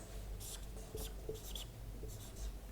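Marker or chalk writing numbers on a classroom board during a maths lesson, a few short scratchy strokes in quick bursts, close and fairly quiet against a low steady room hum.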